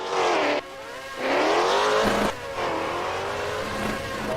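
Several small Formula Micro race cars rev and accelerate onto a lakeside track at the Lakeside Castle GP, engines rising in pitch in repeated surges with gaps between them and a brief tire squeal, loud and nearby.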